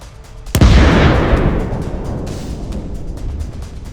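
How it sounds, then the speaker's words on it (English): A drone-dropped grenade explodes on a Russian tank in a war zone: one sharp, very loud blast followed by a long rumbling decay that slowly fades over several seconds, alone with no voices. "causing a powerful explosion."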